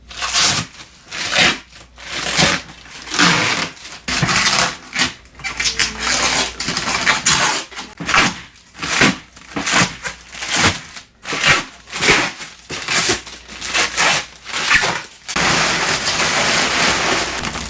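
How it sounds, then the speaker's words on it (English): Protective plastic film is peeled and crinkled off a metal raised garden bed in a run of close rustling, tearing bursts with short gaps between them. A steadier crackling stretch follows at the end. "Now we're just gonna have to pull the film off, and then we will tighten up all the screws."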